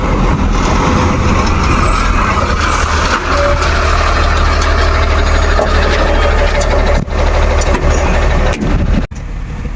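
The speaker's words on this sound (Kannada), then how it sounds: "ಟಾಟಾ ಸಿಗ್ನ ಬರತೈತಿ ನಮ್ಮ ಫ್ರೆಂಡ್ದು" A sixteen-wheel Tata Signa tanker truck rumbles close by with a steady heavy diesel drone, a brief hiss near the end and a dip as the engine note drops, with no talk over it.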